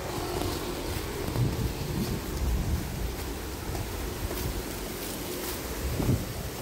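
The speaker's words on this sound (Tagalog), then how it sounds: "Ayan ang ulan." Steady rain falls outdoors as a dense, continuous hiss, with low rumbling and wind buffeting the microphone beneath it; no voices are heard.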